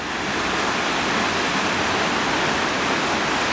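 Ogmore river roaring over a weir after heavy overnight rain, a steady, loud broadband rush of churning water that holds constant throughout with no voices.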